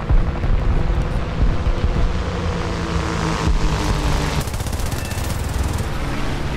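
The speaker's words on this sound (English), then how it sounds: "Looked at the radar when I heard those shots, and sure as shit, that was for me" Rapid machine-gun bursts are fired at a Gladiator Mk II biplane during a War Thunder air arcade battle, sharp rattling volleys over a constant droning engine, with no voices.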